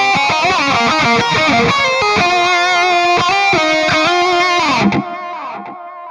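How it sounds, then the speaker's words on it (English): An electric guitar runs through a Mooer P1 room reverb, sounding distorted, sustained chords and notes that change in a steady rhythm, then fade into a short reverb tail near the end. "we'll just go with this room reverb"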